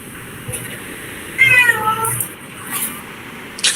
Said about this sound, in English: I hear a kitty cat.